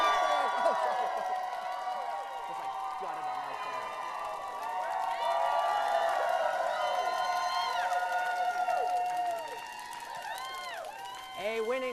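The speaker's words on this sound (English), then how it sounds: "the crowd goes wild at the New York Stock Exchange" A crowd cheers and whoops at the New York Stock Exchange closing, a dense, sustained roar with shouts rising and falling and a brief dip near the end.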